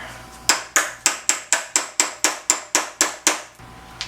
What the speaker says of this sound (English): Let's get a little persuasion with the hammer